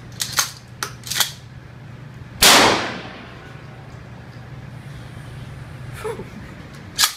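A pump-action shotgun fires a single loud blast on an indoor gun store range in Las Vegas, followed by a decaying echo; sharper clicks and clacks of the action are heard before and after the shot.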